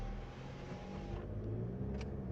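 A car on a driving-school lesson picks up speed, its engine hum rising steadily and moderately loud, heard from inside the cabin with no talking.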